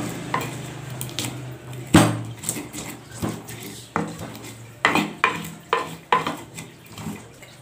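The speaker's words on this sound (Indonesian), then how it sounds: "Jadi cara untuk menghaluskan biar nggak lari cobeknya, kita kasih bawahnya kasih kain ya" Spices ground for sayur lodeh in a stone cobek set on a cloth, giving a run of irregular clacks and scrapes of the pestle, moderately close, with no speech.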